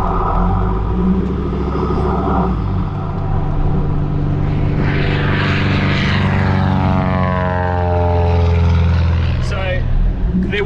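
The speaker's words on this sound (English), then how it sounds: "So there is a plane approaching, a seaplane." A seaplane approaches and flies past on Fraser Island, its propeller drone rising and sweeping in pitch over a steady vehicle rumble from the car, with people talking inside the vehicle throughout.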